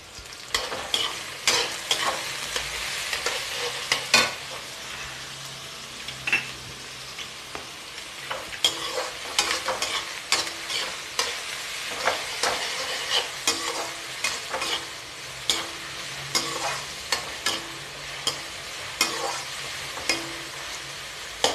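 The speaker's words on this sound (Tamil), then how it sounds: "வெங்காயம் வதங்கிச்சு இந்த அளவு வதங்கினா போதும்" Spring onion and green chili sautéing in a pan for egg fried rice, a steady close sizzle broken by repeated scraping strokes of a spatula throughout, with no talking.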